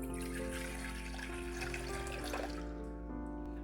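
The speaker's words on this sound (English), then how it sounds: "we're going to use 1 cup of hot water" Hot water runs from a tap in a steady stream, then the pouring changes pitch and thins out near the end, with a low hum underneath.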